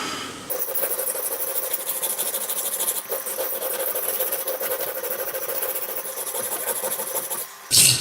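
A blade is rubbed back and forth across a piece of sandstone, a steady, close, gritty scraping hiss lasting several seconds before it stops with a brief knock.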